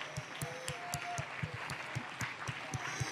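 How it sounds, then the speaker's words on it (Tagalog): A church congregation claps in a steady, evenly spaced rhythm, roughly three beats a second, over a continuous background of crowd noise and singing voices. "Palakpakan natin pinakamamahal na Jesus!"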